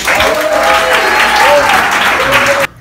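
Loud, dense applause and crowd noise welcoming a music duo, a steady roar of many hands with some cheering, cutting off abruptly at the end.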